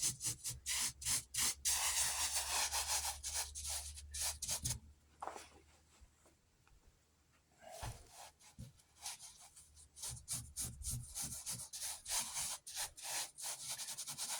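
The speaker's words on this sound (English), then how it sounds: "So I'm gonna rub it into every little part of this." Coarse table salt is rubbed by hand into a fresh animal hide for tanning, making rhythmic, gritty scrubbing strokes up close, loud at first, pausing briefly midway, then resuming in quicker bursts with no talk.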